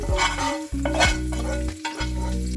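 Sizzling frying in oil left from browning raisins and cashews for fish biryani, with stirring scrapes and a few brief dips in a continuous, close, fairly loud hiss.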